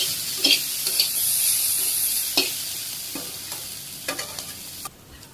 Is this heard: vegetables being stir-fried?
yes